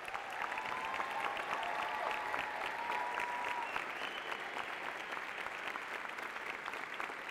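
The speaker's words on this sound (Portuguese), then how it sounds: "que dê uma salva de palmas para todo esse pessoal" Sustained applause from a conference audience, a steady dense wash of clapping that stays even and fairly distant throughout, with no voices standing out.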